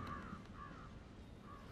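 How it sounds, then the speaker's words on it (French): Two cartoon crows caw three times, faint and hoarse, spaced evenly against a soft background hum. "les deux corbeaux préfèrent s'envoler"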